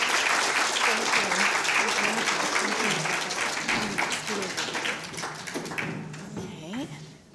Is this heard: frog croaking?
no